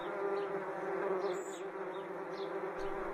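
Steady, close buzzing of bees, a continuous droning hum with slight wavering in pitch as individual insects pass, lasting a few seconds without speech.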